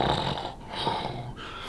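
Steady snoring sound effect with breathy, rumbling inhales and exhales in a slow rhythm, close and continuous without talk.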